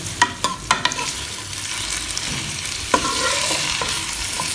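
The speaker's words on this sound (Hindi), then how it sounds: "अब 1-2 दफ़ा हिलाऊंगी प्याज को" Onions fry in a pan toward light brown, a steady close sizzle with a few quick spatula clacks and scrapes as they are stirred.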